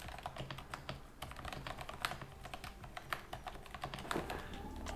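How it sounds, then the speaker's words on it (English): Rapid, crisp clicking of keys on a budget silent mechanical keyboard, a steady stream of close-up keystrokes with no voices. "the typing experience is just really good. Listen to this."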